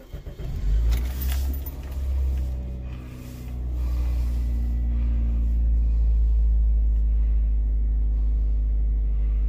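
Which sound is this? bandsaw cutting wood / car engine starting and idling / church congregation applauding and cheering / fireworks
car engine starting and idling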